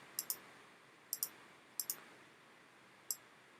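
Sharp computer mouse clicks, in quick pairs and a single, spaced across a quiet room while dragging in drawing software; close and crisp, with no talking.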